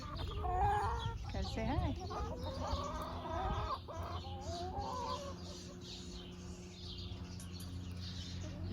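Backyard hens cluck and warble near their coop, with rising and falling calls and squawks heard close throughout, loudest in the first half, while a person talks briefly among them.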